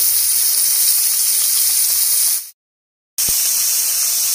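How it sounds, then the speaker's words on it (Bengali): Carrots fry in hot oil for vegetable fried rice, giving a loud, constant hissing sizzle close up that cuts out for about half a second before resuming just as strong. "গাজরগুলো ভেজে নেব।"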